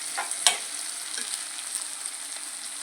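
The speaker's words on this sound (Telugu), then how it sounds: "ఉల్లిపాయలు బాగా ఫ్రై అయిపోయాయి. ఇప్పుడు టమాటాలు వేసుకుందాము." Onions and tomatoes fry in a pan for a fish and egg curry, a soft continuous sizzle with a sharp clink of a spoon stirring early on.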